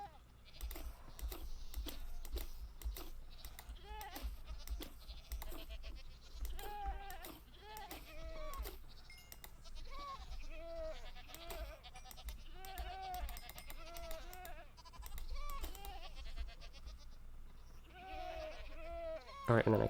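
Goats bleat in Minecraft, repeated short wavering cries spread at irregular intervals, heard under steady computer keyboard typing and clicking.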